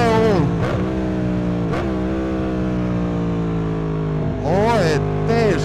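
A Yamaha MT-10 SP motorcycle engine drones loudly and close, rising in pitch and then settling into a steady rumble, with voices speaking over it briefly near the start and again toward the end.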